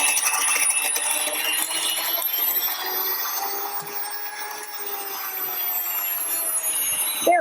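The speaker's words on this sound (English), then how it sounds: "But I'm milling this, we're on the bread setting." Electric grain mill grinding grain on its bread setting, a steady high whirring rasp that runs continuously with slight dips in loudness.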